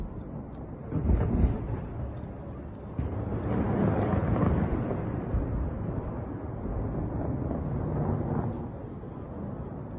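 Distant explosion at the Russian headquarters in Sevastopol, heard as a low rumbling boom that swells after a sharp thump and rolls on for several seconds, muffled by distance.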